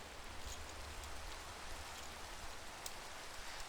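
Steady rain hisses evenly and softly throughout, the ambient weather of the Minecraft modpack Craftoria, with no talk over it.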